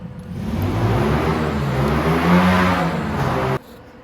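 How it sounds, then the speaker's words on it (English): Engine of a Venom X22GT 250cc automatic motorcycle (CN250) revving close by, a loud sustained roar that swells and holds for about three and a half seconds, then cuts off abruptly. "I'm going to try to do a little bit more here before the revving starts again"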